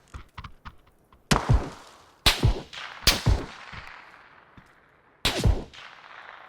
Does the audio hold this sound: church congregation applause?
no